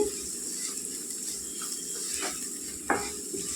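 Cluster beans frying in a pan with chilli powder give a steady, soft sizzle, with light stirring scrapes and one sharper clink of a utensil against the pan near the end.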